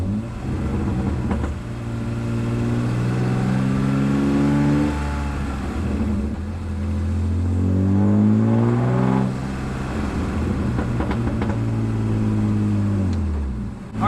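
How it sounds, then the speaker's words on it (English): A BMW E36 with a five-speed manual gearbox revs through a first gear downshift, the engine note climbing and falling in several loud, sweeping surges with no talking. "We'll do a first gear downshift."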